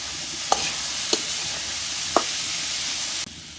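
Boiled potatoes are stirred into hot spices—cloves, cumin powder and salt—frying in a pan, with a steady close sizzle and a few sharp stirring clicks before the hiss suddenly drops away.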